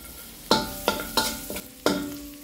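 Garlic fries in oil in a pan while a utensil stirs it, with several sharp scraping clinks over a steady soft sizzle.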